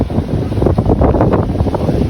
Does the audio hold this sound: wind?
yes